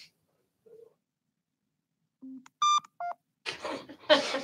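A slot machine gives a short run of separate electronic beeps and boops of varying pitch, fairly close and clear after a near-silent start, followed by a noisier burst at the end.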